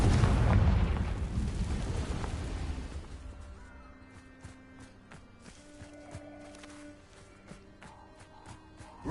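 A loud, roaring explosion from a Confringo fire spell in Hogwarts Legacy fades over several seconds, giving way to quiet game ambience with light ticking and footstep-like taps.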